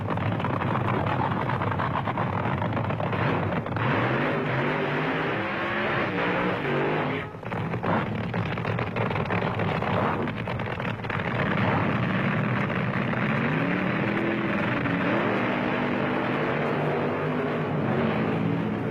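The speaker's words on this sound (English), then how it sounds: "The funny cars of Gene Snow and John Decker." 1970s funny car drag racers roar down the strip in a sustained, loud engine wail with rising and shifting pitch sweeps, heard at a distance with crowd and track ambience.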